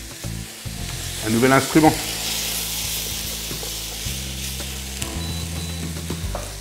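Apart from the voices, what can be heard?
bacon sizzling as it is added to the pan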